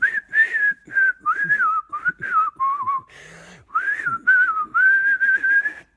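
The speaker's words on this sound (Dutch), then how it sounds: "Lekker fluiten!" A person whistles a lively melody up close, loud and clear in short phrases separated by brief pauses, with a burst of noise in the middle.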